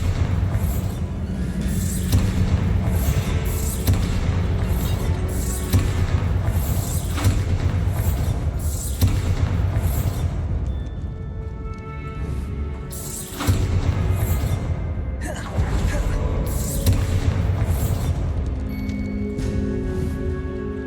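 Bombarda explosion spells go off in the video game Hogwarts Legacy as a string of heavy, booming blasts in irregular succession over a continuous rumbling game soundtrack, loud throughout with a brief lull midway.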